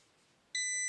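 A sharp, high electronic continuity-test beep from a multimeter starts abruptly and holds steady, loud and close, after a moment of near silence.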